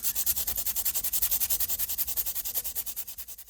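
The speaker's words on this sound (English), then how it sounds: "let's get a bit of foil ready, and we'll fold it up a few times to make it a bit stiffer. And let's give this a rub" Folded aluminium foil rubbed over rust on an old moped, giving a steady, rhythmic scraping that repeats about six times a second, loud and close, with no talk.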